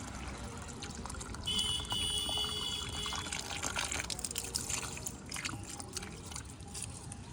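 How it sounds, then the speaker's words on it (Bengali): A tap runs with a strong, steady flow of water, a soft continuous rushing hiss heard alone at low volume throughout. "বেশ ভালো জল বেরোচ্ছে আজকে"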